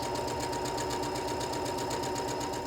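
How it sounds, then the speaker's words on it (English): A sewing machine stitches a quarter-inch seam through quilting fabric for a Lemoyne Star table runner block. A loud, steady, close whir pulses with the rapid needle rhythm, uninterrupted and with no voices. "we'll lower the presser foot, align the raw edges, and stitch to the end"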